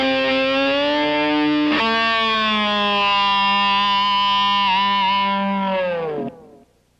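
A distorted electric guitar sustains a bright, harmonically rich note, bent and wavered with the whammy bar, with a sharp pick attack partway through before it dives down and cuts out abruptly near the end.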